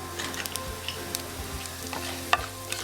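Urad dal, chana dal and peanuts fry in oil with cumin in a pan and are stirred. A steady close sizzle runs under repeated scraping stir strokes, with no talking.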